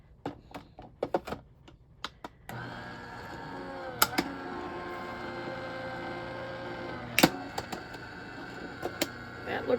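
An electronic craft cutting machine cuts material. A few light taps come first, then a steady whirring motor tone runs for several seconds, broken by occasional clicks and knocks.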